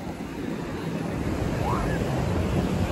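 Steady sea surf rolls in at Alibag beach, a dense continuous wash of waves mixed with buffeting wind noise on the microphone, with no clear talk.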